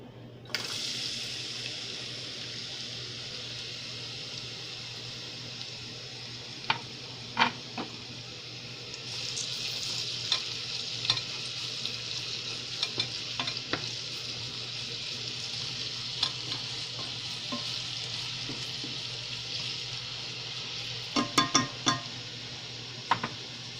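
Chopped onions fry steadily in a pan for Ethiopian alicha shiro, a constant close sizzle with occasional scrapes and clicks of stirring, busier toward the end.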